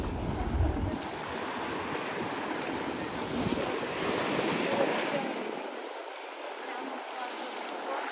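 Ocean waves on a beach make a continuous, hissing wash that rises and falls gently, with a low rumble at first and faint voices in the background.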